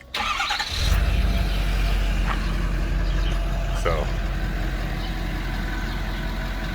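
A truck engine cranks briefly and catches, then settles into a steady, close, low idle; someone talks briefly over it.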